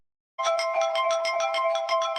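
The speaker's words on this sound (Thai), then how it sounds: "เลือกเสียงเรียกเข้าได้เลยนะครับ" A LINE app ringtone plays a bright, repeating chime melody in steady rhythmic pulses, clean and close, starting after a brief silence with no talking.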